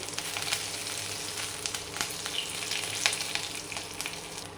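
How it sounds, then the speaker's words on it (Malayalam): Five cloves of chopped garlic and curry leaves frying in a pan for egg curry: a steady, close hiss of hot oil, broken by occasional crackles and small stirring clicks. "ഒരു 5 വെളുത്തുള്ളി ചെറുതാക്കി അരിഞ്ഞത് കറിവേപ്പില അതിലേക്ക് ഇട്ട് കൊടുത്തു"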